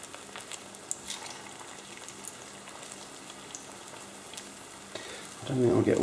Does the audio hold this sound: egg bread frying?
yes